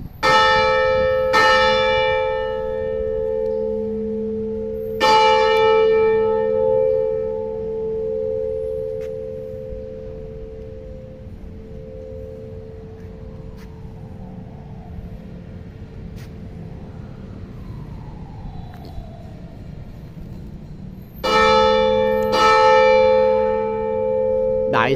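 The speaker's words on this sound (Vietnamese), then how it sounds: "Tiếng chuông tự tháp vang lên" Church tower bells in Chợ Lớn, District 5, Ho Chi Minh City strike for noon, ringing out in loud separate tolls that hum and fade slowly, with faint street traffic filling the pauses between strikes.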